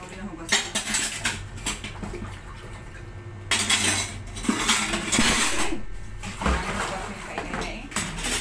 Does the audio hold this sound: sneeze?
no